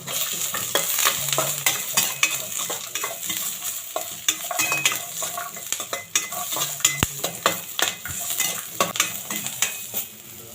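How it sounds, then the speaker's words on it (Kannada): Sliced ginger and peeled garlic fry in a pan for a lamb trotter soup, with a soft sizzle under frequent close clinks and scrapes of a utensil against the pan in an uneven rhythm. "ಇದೆಲ್ಲ ಚೆನ್ನಾಗಿ ಫ್ರೈ ಆಗಲಿ"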